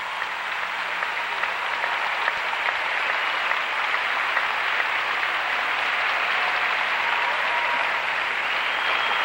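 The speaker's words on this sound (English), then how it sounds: "Nice round of applause for the defending champion," An arena audience at the 1992 US Open professional figure skating event applauds defending champion Rosalind Sumners, a broad, steady roar of clapping that swells slightly and stays sustained from start to finish.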